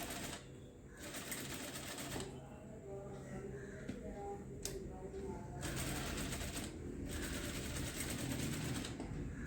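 Sewing machine stitching a cutwork blouse, running in several bursts of steady mechanical whirring separated by brief pauses, with a voice talking over it.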